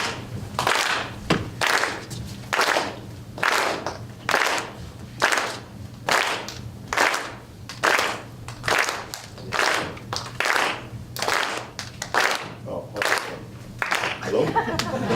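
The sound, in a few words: audience clapping hands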